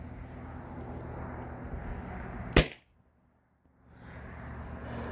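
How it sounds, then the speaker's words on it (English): A Byrna HDB launcher fires a Salt Supply kinetic impact ball with a single sharp, loud pop, followed by a brief hush before steady outdoor background noise returns. "And I'll do one more shot with the HDB."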